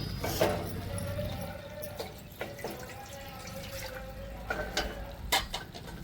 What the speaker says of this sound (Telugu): దీంట్లో కొద్దిగా వాటర్ వేసుకుంటున్నానండి